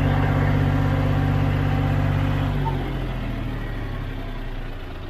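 Tractor diesel engine, John Deere 5039 or Kubota 4501, running at full RPM: a loud, steady, close throbbing drone that eases slightly toward the end.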